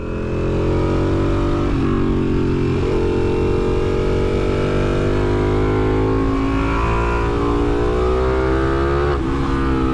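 Kawasaki H2 supercharged motorcycle pulling hard in third gear, its loud, close engine note climbing steadily in pitch through a long sustained acceleration with a couple of brief dips, no speech.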